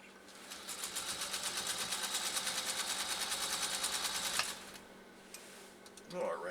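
A 1946 Singer 201-2 sewing machine stitching through three layers of compressed felt, a fast, even mechanical rattle for about four seconds that stops abruptly, followed by quiet handling and a brief voice.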